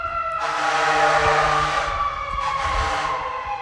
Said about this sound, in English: just hearing these sirens